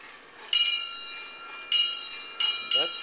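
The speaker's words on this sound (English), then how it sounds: "this big wheel turns the stick around, which pushes this dowel and turns this other dowel that rings a bell" A small bell rung by a homemade device of a turning wheel, stick and dowels strikes four times at uneven intervals, each ring bright and sustained with a lingering metallic shimmer, close by.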